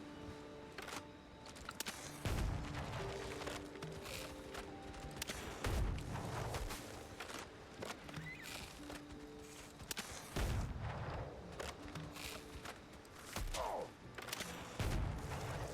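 In the video game Windrose, gunshots fired at enemies ring out as a few separate booming reports spaced several seconds apart, over a busy background of game music and effects.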